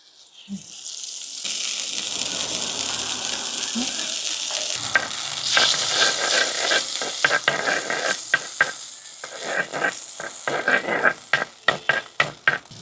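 Butter melts in a pan on the stove: a soft rush builds into a steady sizzle, then sharp stirring clacks and scrapes grow louder and more frequent toward the end.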